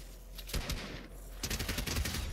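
Rapid automatic gunfire in a Fortnite token wager match, two dense bursts of quick shots separated by a brief gap, loud and close with no talk over it.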